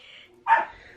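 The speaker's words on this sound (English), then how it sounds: "Excuse me, the plan is for no dogs barking." A pet dog at home gives a single short, sharp bark, close and loud, against quiet room sound.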